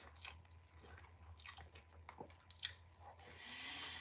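Close, quiet wet chewing and biting of a cream cheese stuffed Juicy Lucy burger, with soft squishy mouth sounds repeating at an uneven pace and no speech.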